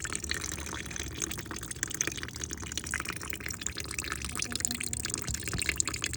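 Fuel trickles steadily out of the carburetor of a Simpson 3400 PSI pressure washer as it is drained, a continuous faint liquid hiss and patter with no talking.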